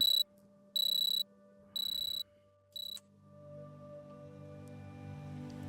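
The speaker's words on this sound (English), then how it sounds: "Stoically pick up the phone and cancel the alarm." Phone alarm in the Hollow Home video game, four loud high-pitched electronic beeps in an even rhythm that stop abruptly, followed by a low ambient hum.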